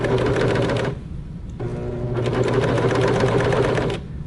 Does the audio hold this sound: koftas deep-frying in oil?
no